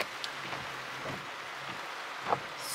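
Rain storm outside in Hawaii, a steady hiss of rainfall with scattered drops and faint wind, at low level and without talk.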